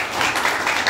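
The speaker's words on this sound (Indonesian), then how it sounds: "Dan tepuk tangan dulu untuk Pak." An audience applauds for Dr. Yakub Nasuha, a retired Indonesian language and literature lecturer, with a short burst of dense, fairly loud clapping from many hands.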